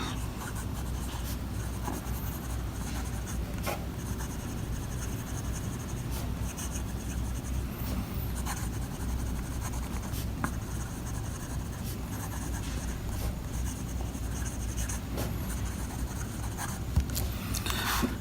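Quiet, close scratching of a Pierre Cardin President fountain pen nib moving across Rhodia paper in steady strokes, with faint light feedback and no voices.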